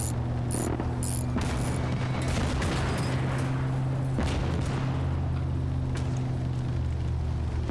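Gunfire from the game Call to Arms - Gates of Hell on the Soviet Ostfront campaign, with scattered shots and bursts over a constant low engine-like drone, fairly distant and continuous.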